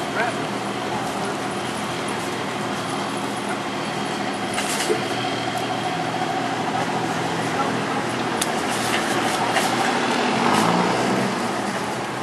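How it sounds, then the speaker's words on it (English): Bus arriving at a stop beside a Walmart, a steady low engine rumble and traffic drone that swells slightly toward the end, with occasional clunks and voices of people talking nearby. "All right, here comes the bus."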